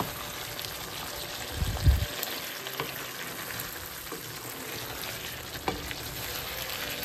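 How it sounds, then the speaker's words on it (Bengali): Mutton and tomatoes cooking down in a pan, a continuous sizzle with stirring scrapes and one heavy thump early on. "তারপরে এই 2টো টমেটো দিয়ে আমি এখন 20-25 মিনিট এটাকে কষাতে থাকবো মাটনটাকে"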